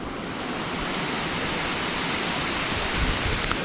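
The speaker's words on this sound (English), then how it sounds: "Let's go and see this waterfall." Aber Falls in Snowdonia roars as a loud, continuous broadband rush of falling water, steady and close, with no voices.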